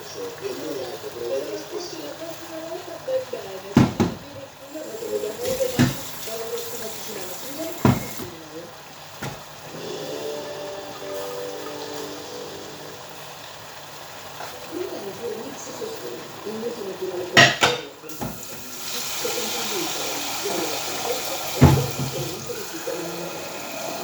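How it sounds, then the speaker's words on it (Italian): Water pours from a container into a pan of stuffed squid, a steady splashing pour that rises and falls across the clip, mixed with handling clatter and a voice speaking nearby. "Aggiungiamo un po' di acqua"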